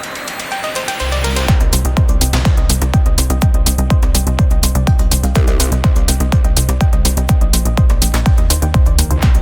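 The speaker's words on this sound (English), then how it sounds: "The intro of the song sounds like this." Melodic techno intro: a soft synth swell for the first second, then a loud, steady four-on-the-floor kick drives under bright hats and layered synth chords and melody, with no voices.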